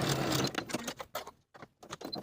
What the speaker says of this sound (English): Sew both short edges with a 3/8 inch seam allowance.